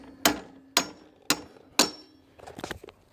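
Four sharp metallic hammer taps on a lawn mower blade at an even pace, each ringing briefly, then a cluster of lighter clinks and scrapes.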